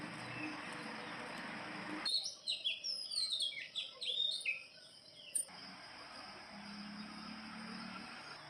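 Birds chirp and tweet in a lively cluster for a few seconds in the early morning before sunrise, set against a steady background hum that fades out and returns.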